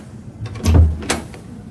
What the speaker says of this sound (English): She opened the door and went in.